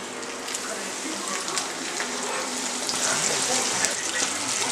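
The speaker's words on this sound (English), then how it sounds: "My fire is hot. My pan is ready. My oil is ready. Let's fry some fish." Black bass fish frying in hot oil in a pan over a fire, a steady dense crackling sizzle that carries on without a break and grows slightly louder toward the end.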